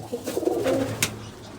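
A pigeon coos in a short, low, throaty phrase close by, followed by a brief sharp click. No voices are heard.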